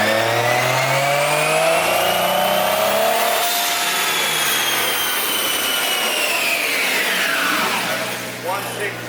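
A Nissan Silvia with a 1JZ engine revs on a dyno. A loud, whining engine note climbs, holds high, then sweeps down, with faint crackling pops near the end.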